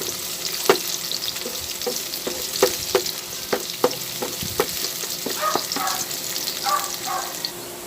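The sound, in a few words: onion and garlic frying in hot oil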